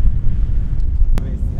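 Loud, steady wind buffeting the microphone on a mountain trail in the Apuan Alps, with a deep roaring rumble throughout and a brief sharp crackle partway through.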